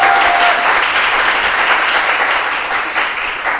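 Audience applause for a bandoneon player after a tango performance on a talk show, a dense, steady wash of clapping from a crowd that fades slightly toward the end.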